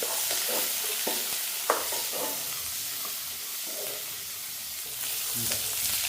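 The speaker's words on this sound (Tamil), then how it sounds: "வெங்காயம் மிளகாய் எல்லாம் நல்லா வதங்கணும்" Onions and chilies sautéing in a pan with curry leaves and fennel seeds, giving a steady loud sizzle and hiss with occasional spoon strokes stirring through, no talking heard.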